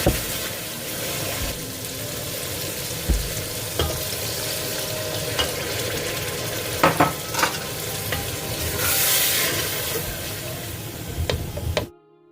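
Masala with green chillies fries in a pan for a cauliflower and egg dish, a steady close sizzle broken by a spoon scraping and clinking as it stirs.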